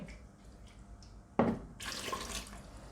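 Tap water running into a measuring cup as it is rinsed out in a kitchen, a sudden splash followed by a steady nearby rushing stream, with no voices.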